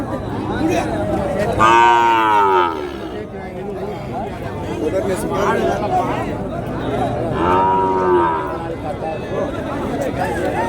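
Cattle lowing at a country-breed cattle market in Madrapalli, two drawn-out moos standing out over steady crowd chatter and nearby voices.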